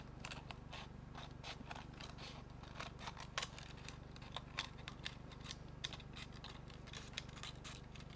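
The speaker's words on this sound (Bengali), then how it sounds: "একটু মোটা রেখে 1 ইঞ্চি রেখে আমি কাটছি।" Scissors snip paper for a handmade bottle gift box in a rapid series of crisp, close cuts over a faint steady background hum.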